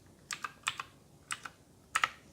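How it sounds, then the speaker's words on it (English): Keys on a Redragon K580 Vata RGB mechanical gaming keyboard are tapped in four quick pairs of crisp clicks, close and fairly quiet, with no talk. "How you get rid of that is you just tap the keys"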